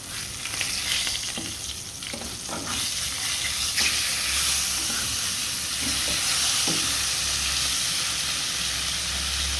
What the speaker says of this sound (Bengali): মাছ ভাজতেছি, রুই মাছ ভেজে নিচ্ছি।